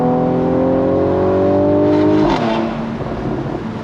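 A Mercedes-Benz C43 AMG cabriolet with a 3.0-liter twin-turbo engine and 362 hp drones steadily, then its exhaust note drops off with a brief burst of crackles as the revs fall, close and loud with no talk.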